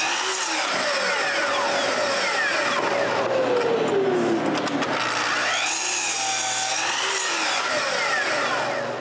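Wood pieces cut to length in a workshop for a bandsaw base, a steady loud whine of a power saw running continuously with shifting pitch as the blade passes through the stock, no talking.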